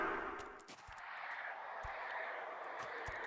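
Sparse, faint gunshots from the XCOM: Enemy Within video game crack as separate short hits over a steady low rumbling background, with no talking.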